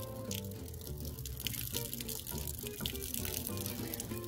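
Water draining out the front of a homemade water-harvesting setup, a quiet, steady trickle and drip running continuously under a low background hum.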